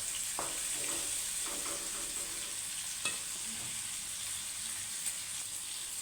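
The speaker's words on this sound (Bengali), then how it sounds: "ফ্রাই প্যানটা বসাই দিয়েছিলাম, আর তেল আর টমেটো তারপর কাঁচামরিচ পেঁয়াজ সেগুলোকে দিচ্ছি এর সাথে" Tomato, green chilli and onion fry in oil in a frying pan with a soft, steady sizzle, broken by a few light stirring scrapes.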